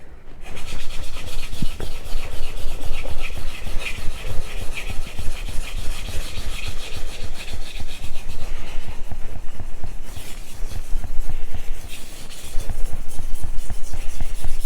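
A kitchen knife is sharpened on a Morihei 500 grit synthetic whetstone made to feel like natural stone, giving loud, continuous close-up rasping strokes in a steady back-and-forth rhythm with short pauses and no talk.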